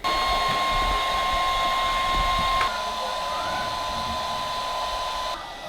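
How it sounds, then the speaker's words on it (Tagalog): A blower door fan runs during an airtightness test on a house in Manila, giving a loud, steady whining hum that dips slightly partway through and then cuts off near the end. "So, ito yung ginagawa ng blower door."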